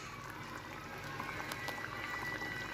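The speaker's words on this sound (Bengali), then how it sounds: "আজকের রেসিপি আমার চিংড়ি মাছের মালাইকারি এখানে ফুটছে।" Prawn malai curry bubbling steadily in a pot, a soft continuous simmer with faint popping bursts, close and moderately quiet, no talking.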